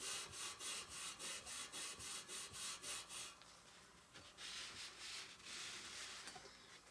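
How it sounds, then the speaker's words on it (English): Steel wool scrubbing corrosion off a vintage bicycle wheel, a close, quiet rhythmic rubbing of quick even strokes that turns into a smoother continuous scratchy scour, with no voices. "I use a more used piece of steel wool and other items that I use to remove corrosion."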